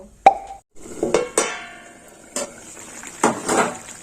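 Water added to a kachkel fish curry simmering in a pan: a sharp metallic clink, then a few close plops and splashes with pan and utensil clatter, and a steady sizzling hiss underneath. No talking.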